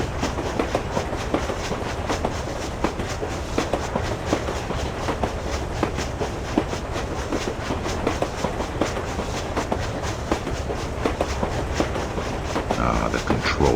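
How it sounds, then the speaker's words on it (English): A moving train in the video game Nocturne runs continuously, a dense rattling clickety-clack of wheels on rails with steady rhythmic knocks throughout, loud and close. "There's no way to stop the train."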